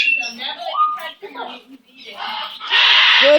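Chickens cluck and squawk close by in uneven bursts, with a louder flurry of calls near the end, and a person talks through part of it.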